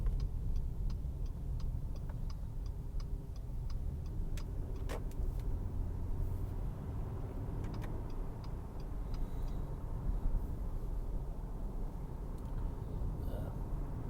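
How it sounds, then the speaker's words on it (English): Steady low road rumble from inside a moving car, with a faint regular ticking, like a turn signal, running through part of the drive and no voices. "Yeah, now I'm driving back."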